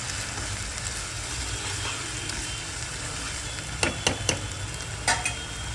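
Green masala paste sautéed with onions for a bottle gourd dish, a constant soft frying hiss with a few sharp spoon clacks against the pan near the end.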